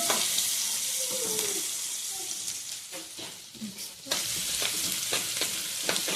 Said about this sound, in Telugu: ఇట్లా దూరగా వేగాలండి దూరగా వేగినాక చికెన్ వేసుకోవాలి